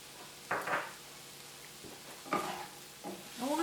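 Precooked green beans and broccoli with garlic salt are stirred in a hot pan, a few soft scraping strokes over a faint, steady sizzle, close and quiet with no talking.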